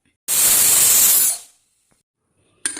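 A pressure cooker whistle releases a sharp, loud burst of hissing steam lasting about a second, then fades to silence before another short hiss begins.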